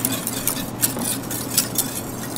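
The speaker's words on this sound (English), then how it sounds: "Now I'm going to stir constantly until our base starts to thicken." Constant stirring of a chocolate soufflé base thickening in a pan: close, rhythmic scraping strokes repeat several times a second over a soft background sizzle.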